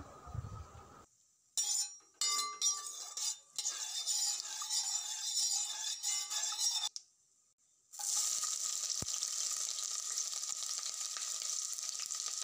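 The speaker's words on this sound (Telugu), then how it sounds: "ఇవన్నీ వేసాక మంచిగా స్పూన్తో అయితే కలిపాను, మంచిగా ఫ్రై అయ్యేలాగా" Dried red chillies and seeds frying in oil, stirred with a spoon; bursts of sizzling alternate with silent cuts, with clinks of the spoon against the pan, then a steady, brighter sizzle to the end.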